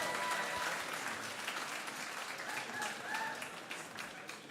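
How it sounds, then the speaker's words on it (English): Steady, full applause from a comedy club audience, dense clapping sustained for several seconds with a few faint whistles and cheers poking through, slowly tapering near the end. "Right, let's get the applause going again."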